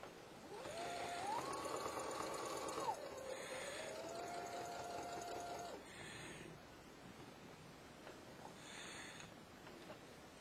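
A sewing machine back-stitches the seam joining a fleece hoodie sleeve to the body, a steady mechanical whir running for about five seconds, then stopping, followed by faint handling noises.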